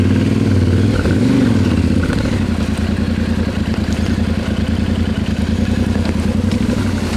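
Yamaha Tenere 700 ridden off-road on a rally-style roadbook navigation route among bushes, its engine loud and close with a steady chugging drone, a rev swell early on, and rattling clatter throughout.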